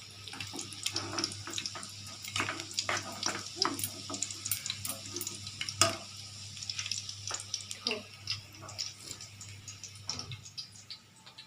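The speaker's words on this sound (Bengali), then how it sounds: "এটার মধ্যে একটু গরম তেল দিলে আরও ভালো হবে ফুরফুরে হবে গরম তেল আমি মিশিয়ে দিলাম" Hot oil being stirred into an egg and onion batter for an evening snack, giving repeated wet clicks and scrapes of a spoon against the bowl, close and fairly steady, over a faint background hum.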